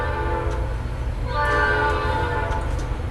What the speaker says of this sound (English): Now you can hear a train going past.